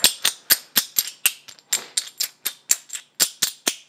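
Heavy metal game coins shaken and clanged in a hand give a quick series of sharp, bright metallic clacks, roughly four per second, close up and alone.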